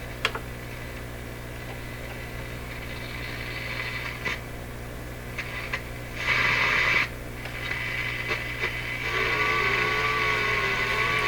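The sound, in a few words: ham radio transmissions on shortwave radio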